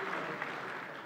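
An audience at a trade union congress applauds in a dense, steady patter of clapping across the hall that stays even for about a second, with no voices standing out.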